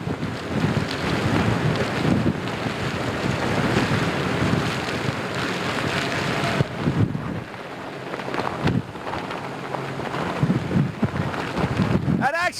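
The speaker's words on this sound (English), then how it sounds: "wind gusts of up to 120 miles an hour right here in this location" Hurricane wind gusts of around 100 miles an hour roaring loudly into the microphone outdoors during a 2004 hurricane, a continuous heavy buffeting rush with surging gusts and brief dips.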